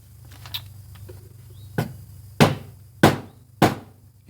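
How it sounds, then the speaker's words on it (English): A hammer strikes a piece of pipe set over a socket while working on a VW 09G transmission solenoid, giving several sharp metallic knocks spaced roughly half a second apart, close and clear over quiet room noise. "hitting the socket with a hammer"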